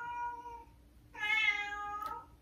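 An elderly cat meows twice nearby, the second call louder and more drawn out, with quiet background between.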